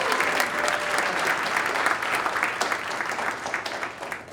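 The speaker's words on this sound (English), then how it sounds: "So if you guys can give a round of applause to Royalty Headwear." At a startup pitch event, a crowd gives sustained applause, loud and even throughout, with no talk over it.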